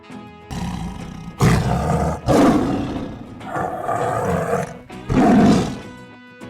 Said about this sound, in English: You're right! That's a tiger!